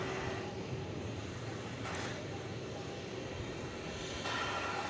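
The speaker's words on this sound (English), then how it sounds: "they can hear the sound of a jet engine roaring" A jet aircraft engine roars at DFW airport at night, a broad, steady, fairly distant rumble that holds throughout with no talk.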